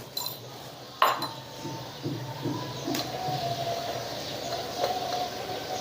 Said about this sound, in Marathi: ते सगळं असं मिक्स करून घ्यायचं चांगलं